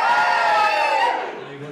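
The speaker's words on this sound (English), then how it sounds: "We'll do that again, we'll have a cheer." A comedy open mic night audience lets out a short burst of cheering and whooping, loud and close, trailing off after about a second.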